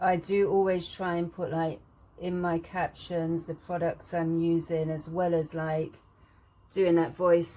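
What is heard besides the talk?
No distinct noise like a dog, phone or traffic.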